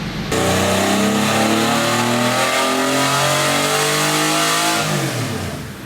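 A Porsche 964 with a near straight-piped exhaust runs on a dyno, its engine note climbing steadily through a long, loud full-throttle pull before dropping away at the end.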